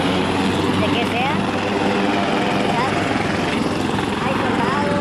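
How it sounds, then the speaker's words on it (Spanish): A military helicopter at a state fair, its loud steady rotor and engine drone filling the whole stretch, with crowd noise and voices under it. "vamos llegando y está un helicóptero de la guerra aquí con nosotros"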